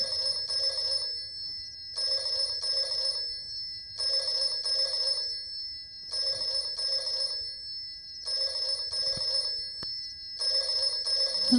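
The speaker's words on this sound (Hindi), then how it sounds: "तू टेलीफोन की घंटी बजा रहा है?" An old-style telephone bell rings in repeated double bursts, about six rings with short silent gaps between them, loud and close with no talking.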